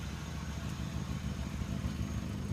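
1985 Oldsmobile Delta 88 V8 idling with a leaking, holed exhaust and muffler, a steady low rumble with slight uneven sputtering, fairly quiet and close.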